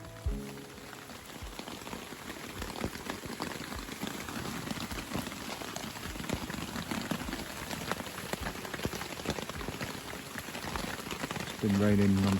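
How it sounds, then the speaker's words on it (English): Rain drums steadily on a tarp over a stealth hammock at a wild camp in Greater London, a dense, continuous patter that holds even and close throughout, swelling slightly at the end. "Been raining non-stop for about an hour."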